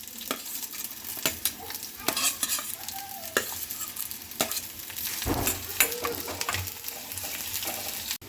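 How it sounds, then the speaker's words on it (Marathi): Onion sautés in hot oil in a kadhai, giving a continuous sizzle broken by repeated scraping and stirring clatters from a spoon against the pan. "प्रथम आपण कांदा 2 मिनिट परतून घेणार आहोत"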